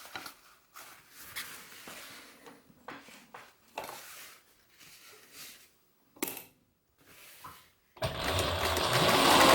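A Singer 107W1 industrial sewing machine with a servo motor stitches through thick layers of sail cloth while skipping stitches, running in short stop-start bursts before a longer, louder continuous run at the end.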